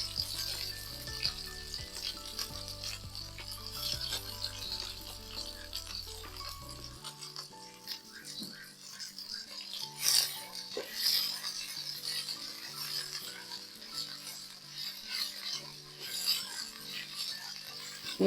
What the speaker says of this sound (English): you put a bit of the sunflower oil, then we put our onion rings